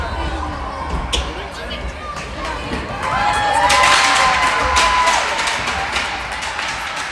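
Spectators cheer as the players of a just-finished game come over to salute them; the noise swells in the middle and then settles, with a voice talking over the crowd.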